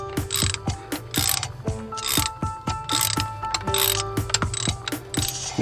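A ratchet wrench with a socket loosens a bolt in quick bursts of sharp clicking pawl ticks. The bursts come in an irregular rhythm of short strokes, close and clear, with no voices.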